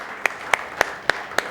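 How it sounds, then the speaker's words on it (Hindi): Five sharp, evenly spaced claps ring out in a steady rhythm from an audience at a live Hindi poetry performance, each a crisp, separate burst with quiet gaps between. "एक बार दीदी के लिए भी ज़ोरदार तालियां बजा दें आप सभी।"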